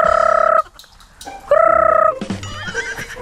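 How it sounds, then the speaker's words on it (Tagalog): Farm fowl call out loudly and close by in two long, tonal bursts, then give a scattered burst of clucking and squawks, with no voices. "nandito ang mga mga manok-manok. Mga kukudek."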